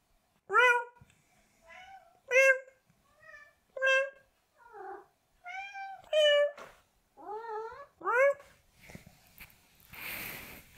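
A cat meows about a dozen times in short, separate calls, each rising or falling in pitch, fairly close and clear, ending in a brief rush of noise.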